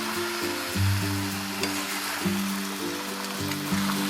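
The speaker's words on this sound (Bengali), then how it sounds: "শাকটা কমে যাওয়ার পর ভাজা সবজিগুলো আমি এতে দিয়ে দিলাম" Fried vegetables are tipped into a pan of wilted Malabar spinach and hiss in a soft, continuous sizzle under a droning, shifting tonal background.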